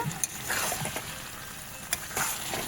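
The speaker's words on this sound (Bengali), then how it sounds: "এখন সয়াবিনটাতে আরও কিছুক্ষণ কষাবো" Soybean chunks sauté in a pan with a splash of water, producing a constant bubbling sizzle punctuated by a few sharp stirring clacks and scrapes close by.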